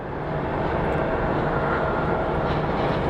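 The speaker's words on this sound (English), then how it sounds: "let's take a look at the plane coming in from Roswell" An airplane coming in to land at Phoenix Sky Harbor International Airport gives a steady, loud, broadband engine roar that holds constant throughout, with no talking.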